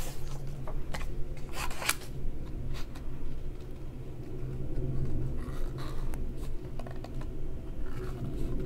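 Scissors cutting out papercraft card pieces at a crafting table: a series of crisp snips in small clusters, close and moderately quiet, over a steady low background hum.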